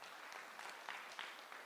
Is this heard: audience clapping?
yes